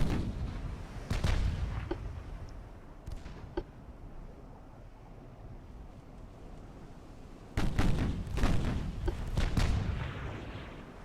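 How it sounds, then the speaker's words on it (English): Torpedo launches and naval gunfire in the warship game Ultimate Admiral: Dreadnoughts, set in a 1941 Force K battle, come as muffled booms and thuds in two clusters over a low, steady rumble. "I'm hearing torpedoes launching."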